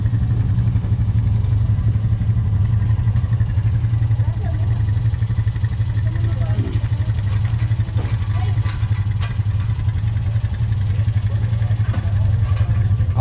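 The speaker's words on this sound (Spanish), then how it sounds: "Vamos a dar un paseo en moto." A quad bike (ATV) engine runs steadily nearby in a village setting, a continuous low rumble throughout with people talking over it and occasional clatter.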